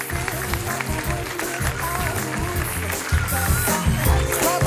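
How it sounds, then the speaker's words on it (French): An audience at the Marathon du Mont-Blanc 80 km prize ceremony applauds the winners, steady clapping and crowd noise under an announcer's amplified voice. "je crois que vous pouvez vraiment les applaudir très,"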